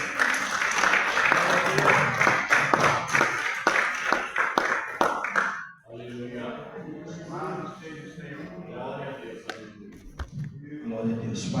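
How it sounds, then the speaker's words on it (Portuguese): A church congregation at a Tuesday prayer service claps together, a dense burst of applause for about six seconds that then gives way to talk and softer crowd murmur. "Aplauda o Senhor em nome de Jesus."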